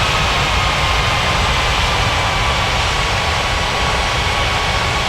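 An Air Canada airliner on its takeoff run in an air traffic control game, a steady, loud, dense jet engine roar that holds at an even level throughout with no talk.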